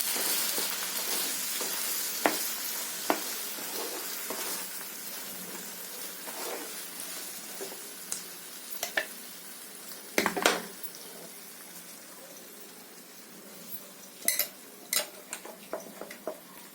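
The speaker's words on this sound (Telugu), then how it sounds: "ఆనియన్స్ దాంట్లో వేస్తున్నాను." Onions sizzle in a pan while palak paneer is cooked, a steady soft crackle with a few clinks and stirring knocks from the pan, heard up close without talk.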